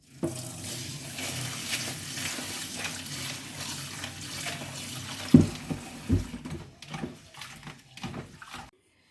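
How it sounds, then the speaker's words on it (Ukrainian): Steady cold running water splashing into a bowl as rice is rinsed, with soft sloshing and a few clinks near the end as the water is swirled. "Триста грам рису промиваю холодною водою."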